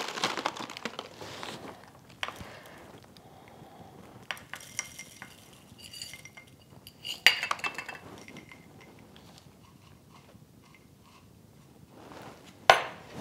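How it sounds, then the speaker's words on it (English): Granola is scooped into a breakfast parfait, with scattered light clinks of a utensil against a glass or bowl and soft crinkly rustles between quiet pauses. "Next is the granola. And I'm just using this as a scoop."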